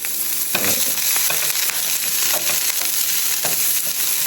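Small pieces of chopped onion fry in a pan with a steady, close, continuous sizzle and occasional stirring scrapes, and no voices.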